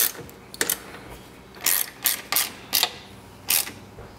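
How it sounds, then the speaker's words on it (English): Mounting nuts on a GMC Sierra side mirror get tightened with a ratchet in short clicking bursts, several quick close runs of pawl clicks separated by brief pauses. "once you have all the nuts back on, you can tighten this down"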